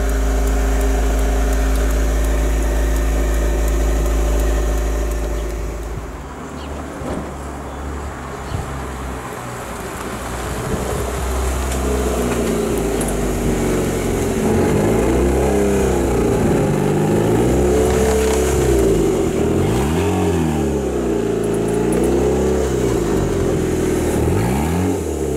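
A restored Raffo Belva car engine runs loud and close, starting from a steady idle, then revving up and down in several rising and falling sweeps, rough and rattly in tone.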